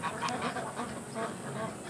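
Farm ducks honk and quack near a pond in a faint, scattered chatter of overlapping calls at a middle distance.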